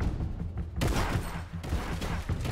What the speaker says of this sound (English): Shotgun, by the way.